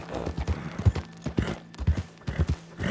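Horse hooves galloping in Red Dead Redemption 2: a steady, loud clip-clop rhythm of repeated hoofbeats running throughout, close and unbroken, with no talk over it.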